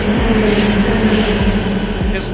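Ferrari 488 Challenge race cars practicing on a track produce a loud, continuous engine roar with several sweeping pass-by surges, while a voice talks over it.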